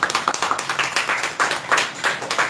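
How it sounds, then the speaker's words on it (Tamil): A small audience at a monthly prize draw claps in a brisk, uneven patter, with close individual hand claps that stay bright and fairly near the whole time. "உற்சாகமான கைத்தட்டல் தர வேண்டும்"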